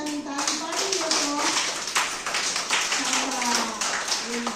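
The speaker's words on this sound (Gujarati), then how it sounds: "ચાલો સરસ મજાની તાળી પાડી દો તો." Young kindergarten children in a classroom clap their hands together in a continuous busy patter, with a teacher's voice talking over the clapping throughout.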